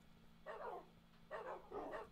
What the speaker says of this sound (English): Did I hear dog take damage?